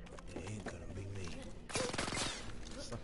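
Gunfire in the game Far Cry 5: a rapid burst of automatic shots in the middle, mixed in with in-game voices and talk before and after.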